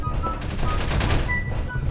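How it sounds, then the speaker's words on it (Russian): Gunfire in a Garry's Mod horror map set on a ship, heard as a dense, continuous burst of shots under steady game noise, fairly loud and close. "Кто-то стреляет."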